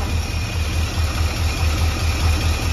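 Engine of a 1979 K-30 square-body truck idling in a steady, low rumbling throb, with the timing set a little low, running alone and loud without any voices.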